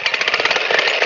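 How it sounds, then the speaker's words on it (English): A jackhammer pounds into rocky limestone and clay loam soil. Loud, close, rapid hammering pulses run continuously under a harsh engine-like roar. "But I've never actually used a jackhammer before."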